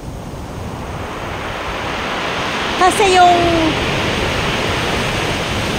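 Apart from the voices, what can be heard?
ocean waves washing over pebbles on a beach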